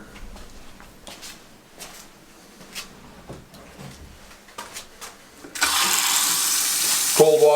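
Quiet clicks and knocks give way to a sudden steady rush of cold water running from a sink faucet, loud and close, continuing to the end.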